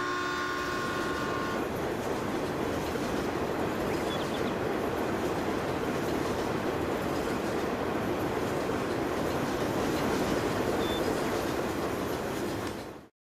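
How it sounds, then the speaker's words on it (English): In a farming game set on the West Coast USA, a loud train rumbles past without a break for about thirteen seconds. Its wheels clatter steadily under a brief horn tone at the start, and it cuts off abruptly at the end. "Train, watch out, it's loud."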